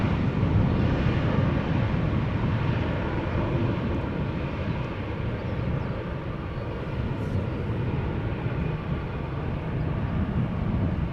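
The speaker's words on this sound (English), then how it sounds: "This Pilatus PC-12 has a German registration DCPTN, D Captain" A Pilatus PC-12 turboprop at Amsterdam Schiphol gives off a steady, moderate engine drone with broad rumbling noise, heard from some distance and holding fairly level throughout.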